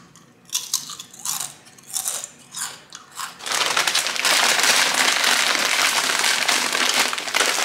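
Kettle-cooked potato chips crunch in close, sharp bites, several separate crunches followed by a loud, dense stretch of continuous chewing and crackling near the microphone.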